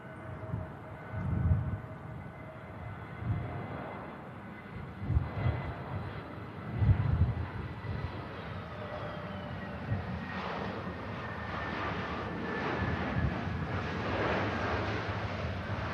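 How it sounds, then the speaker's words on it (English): An easyJet airliner landing at Manchester Airport, a distant jet rumble with thin whining tones that slowly drift in pitch, broken by gusty low wind thumps on the microphone, without speech. "EasyJet next touchdown."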